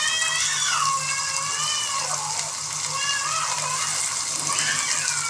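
Beans, carrots and other vegetables for veg biryani fry in a pan with a steady, dense sizzling hiss throughout, and a voice is faintly heard underneath.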